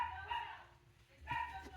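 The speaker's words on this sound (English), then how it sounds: "that's the dog." A dog barks a few times inside a house, the short yips and barks faint and muffled at a distance, with a quiet voice nearby.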